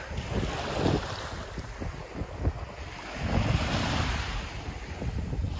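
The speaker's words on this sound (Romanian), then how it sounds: "ascultăm sunetul valurilor" Steady surf washes in with rolling swells and wind gusts buffeting the microphone, a continuous broad roar with no voices.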